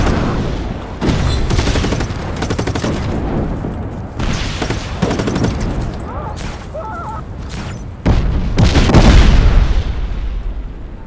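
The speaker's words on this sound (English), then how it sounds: "Those fuel tanks blow up nice, Rico." In the Just Cause 3 video game, fuel tanks explode in a run of heavy booms and crackling blasts mixed with bursts of gunfire. The blasts are loud and close, and the bursts come in irregular waves over roughly eleven seconds.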